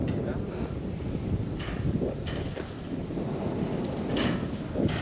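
Wind blowing across a hilltop at Marangkot, Palpa, a low rumbling buffeting against the microphone with gusts that swell and fade throughout.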